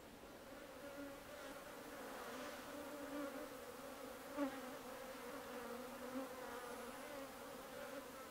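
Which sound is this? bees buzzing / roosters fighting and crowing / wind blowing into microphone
bees buzzing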